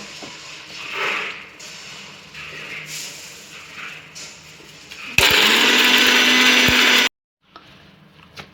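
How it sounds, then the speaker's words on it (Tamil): An electric mixer grinder whirs loudly for about two seconds, grinding mint chutney with roasted urad dal, after quieter handling and clatter, then stops abruptly. "நம்ம உளுந்தை வந்து லாஸ்ட்டில் வந்து போட்டு அரைக்கிறோம்"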